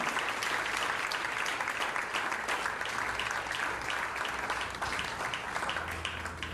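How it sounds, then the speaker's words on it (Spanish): Sustained applause from a church congregation, a dense, steady patter of many hands clapping at moderate volume throughout. "Aplaude al Rey si tú lo crees. Aplaude al Rey."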